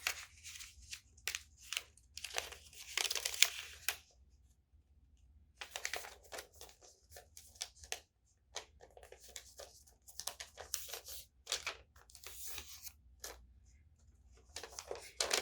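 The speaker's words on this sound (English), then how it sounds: "you're going to fold it diagonal both ways. And then you want to fold it in half." Paper is folded diagonally both ways and then in half, giving quiet crinkles and soft creasing taps in irregular bursts with pauses between, close and faint.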